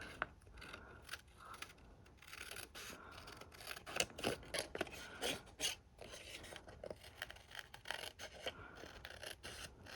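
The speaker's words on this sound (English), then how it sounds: "I'm going to take my scissors and cut around the edge of the envelope flap" Scissors snip around the edge of a paper envelope flap in quick, irregular crisp cuts and rustles, faint and close, with no talking.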